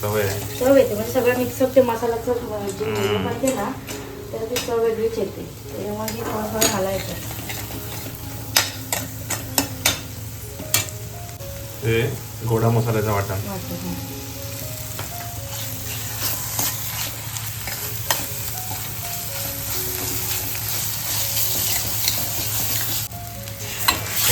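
Spices such as garam masala and coriander stirred and sizzling in a pan while cooking a bitter val (kadve val) bean curry, a steady close fry with scraping stirs and someone talking over it.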